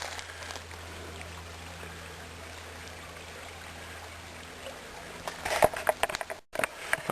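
Slow, gentle creek flowing past small rock walls and a sandy bank, a soft steady trickle and babble, faint and continuous, with a few louder close knocks near the end.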